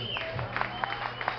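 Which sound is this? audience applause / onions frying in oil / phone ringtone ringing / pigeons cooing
audience applause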